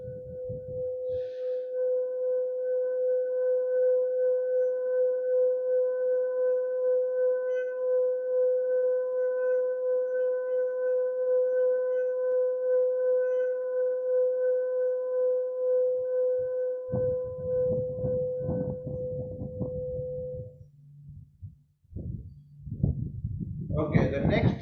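A brass bronze singing bowl is rimmed, producing one sustained, pure ringing tone with a gentle pulsing swell for about twenty seconds. A voice begins talking as the tone dies away.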